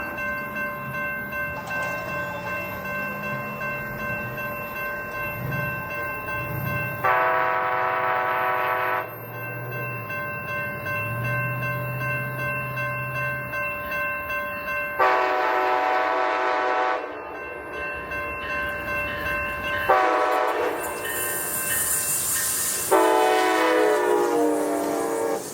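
A passing passenger train hauled by a Siemens Charger locomotive, with loud, repeated horn blasts in long sustained tones, its rumbling cars rolling by steadily close at hand.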